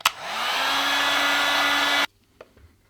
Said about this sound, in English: So we gotta have a heat gun and soften it up, and then we can remove it quickly.